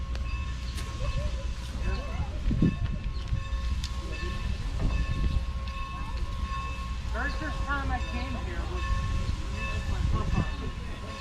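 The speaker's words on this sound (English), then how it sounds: "I wanted to get this on film so you can see the train coming here to couple up" A Strasburg Railroad train rolls in to couple up, a low rumble with squealing metal and faint clanks under nearby chatter from people on the platform.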